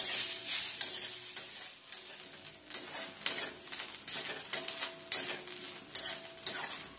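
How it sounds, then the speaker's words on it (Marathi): Grated coconut and garlic cloves are stirred and roasted in a pan, with a spoon scraping in repeated strokes over a soft sizzle, close and fairly quiet, no talking. "आता आपण चांगलं लाल करून घेतो खोबरं।"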